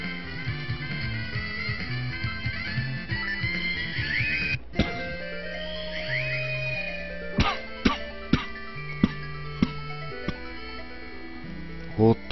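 A few sharp coughs break in over steady background music, close to the microphone and fairly loud.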